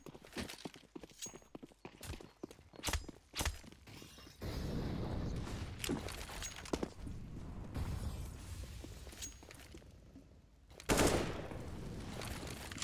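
Gunfire during a Counter-Strike: Global Offensive esports match, fairly faint bursts of rapid shots and impacts mixed with game noise and a grenade-like burst, at low level.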